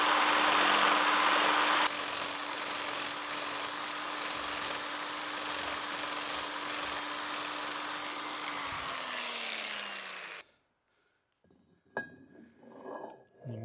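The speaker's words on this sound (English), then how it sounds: "I've increased my stroke length again for more of a roughing pattern. And we'll just get this scraped out." A power scraper works a long roughing stroke across the compound surface of a Monarch 612 lathe under restoration, with a dense, continuous mechanical rasp and drone for about ten seconds that stops, followed by a few quiet clicks and handling sounds.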